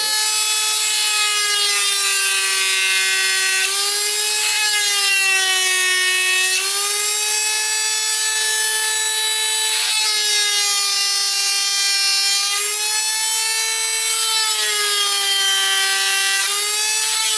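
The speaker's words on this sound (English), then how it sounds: "So, get back to the Dremel here." Dremel rotary tool cuts a recess in wood with a continuous high-pitched whine. The pitch rises and falls slightly as the bit loads and frees in the cut, loud and close, with no voices.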